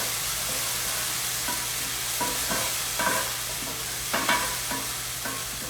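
Cranberries simmer and soften in a pan with a steady low sizzle, while a utensil stirs and scrapes against the pan in a few short, irregular knocks close by.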